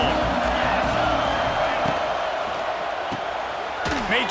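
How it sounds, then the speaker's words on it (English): A stadium crowd roars in EA Sports College Football 26, a broad, continuous wash of cheering with a play-by-play commentator talking over it. "This crowd ready to make its presence known."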